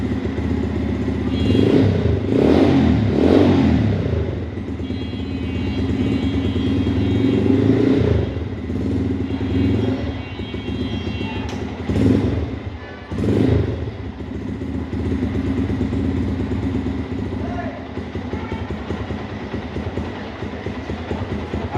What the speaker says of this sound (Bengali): বাইকটা এক সেলফি স্টার্ট নিল